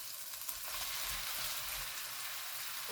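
Meatballs for a curry fry in a pan, a steady, soft hiss of sizzling oil with a faint low rumble beneath, continuous and unbroken.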